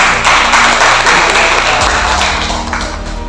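Seminar audience at a presentation expo applauding, a dense, loud burst of clapping that holds steady and then slowly fades.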